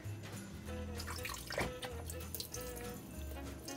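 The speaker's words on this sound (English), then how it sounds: "Wash it in cold water." Raw chicken being washed under cold running water in a kitchen sink, a steady splashing stream with brief sloshes and handling noises, moderately faint.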